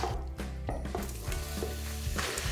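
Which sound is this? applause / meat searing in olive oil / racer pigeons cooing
meat searing in olive oil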